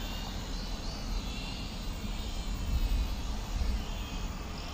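A small beginner quadcopter drone flies nearby with a steady, rough whirring drone, swelling slightly partway through and then settling, no voices.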